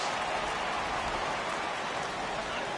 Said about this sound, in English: the rain starting to intensify here. It's coming down a little heavier now.